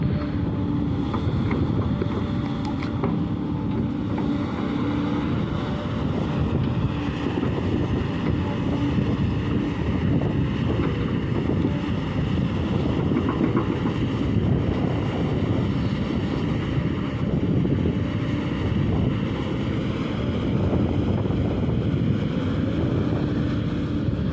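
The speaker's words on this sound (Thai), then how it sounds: "ลมอาจจะแรงไปนิดนะคะทุกคนเพราะว่าอยู่กลางทุ่งนานะคะ" Strong wind roars continuously across an open rice field where a SANY SY135C excavator and dump trucks are working, a dense steady buffeting that fills the whole stretch with no speech.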